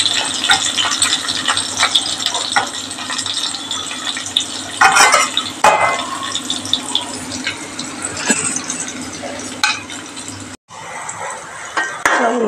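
Sliced shallots, about ten to fifteen, with a whole head of garlic sauté in oil in a pan for a chickpea curry, a steady close sizzle with scattered stirring clinks and rattles.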